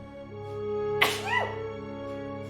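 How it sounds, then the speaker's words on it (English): A single sharp human sneeze bursts out once, close and fairly loud, over steady background music during a livestream. "Oh, I have to sneeze."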